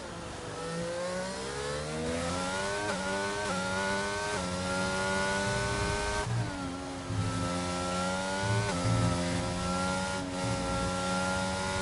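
A Formula 1 car engine in a video game revs up and down repeatedly as the throttle is worked through S-bends at the Mexican Grand Prix, pitch climbing and dropping in quick cycles, fairly close.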